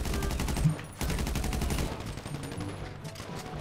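Rapid bursts of gunfire from a shootout in the video game GTA V Online, dense and loud throughout, with a brief lull before the firing resumes.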